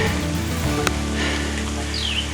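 Steady, dense rain falls at Tiger Cave Temple in Krabi, a loud continuous hiss of drops on surfaces with no break, heard up close without talk.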